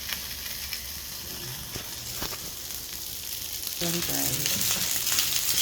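Rice and plenty of garlic frying in leftover bacon fat: a steady close sizzle and crackle throughout that grows louder and busier partway in, with a brief voice over it.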